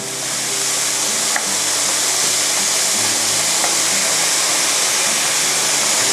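Pork sizzles in a hot pan as it is stir-fried with garlic, a continuous loud frying hiss with occasional scraping of the utensil, no talk over it.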